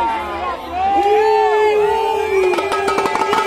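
Football fans in a stadium crowd cheering and chanting, a loud sustained roar with whistles rising above it and sharp claps toward the end.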